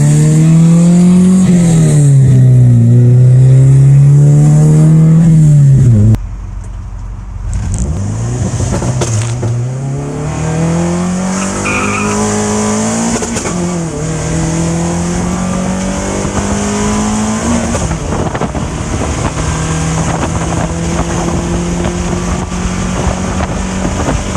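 A ported-head Honda VTEC engine revs hard through a run, its loud rising pitch climbing, dropping at a shift and climbing again, with wind buffeting over the top and no one speaking.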